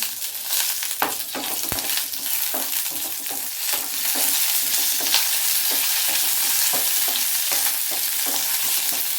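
Curry leaves frying in hot oil for carrot chutney, with a steady close sizzle broken by scattered crackles and the scrape of a spoon stirring the pan.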